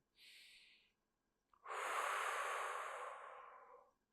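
Slow breathing during a seated hip mobility exercise: a short inhale, a brief pause, then a long, steady exhale, heard close and alone in quiet.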